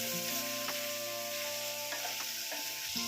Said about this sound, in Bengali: এবারে পেঁয়াজের সঙ্গে চিকেনটাকেও ভেজে নেব একদম হালকা করেই ভাজবো চিকেনটাকে